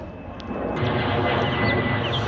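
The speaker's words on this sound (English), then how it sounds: "There's an airplane." Fixed-wing airplane passing overhead close to an airport, a broad steady engine roar that swells slightly as it goes over, loud and near with no talk.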